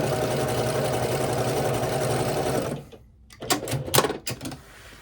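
A quilting sewing machine chain piecing rows for a herringbone quilt stitches in a fast, loud, steady run. It then stops, and a few short clicks and handling sounds follow.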